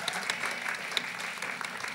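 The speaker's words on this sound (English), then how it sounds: "give a huge round of applause to Vivi" An audience claps for Vivi, a community manager at Horizon, at a conference on advancing women in the global talent arena: a steady, moderately dense patter of hands lasting about two seconds, with a few sharper individual claps standing out.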